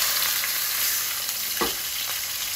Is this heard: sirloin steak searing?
yes